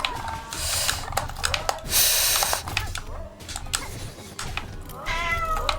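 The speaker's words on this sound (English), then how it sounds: "Oh, he's meowing." A cat meows several times at close range, its short calls rising and falling over a steady background of game sounds and light breathing.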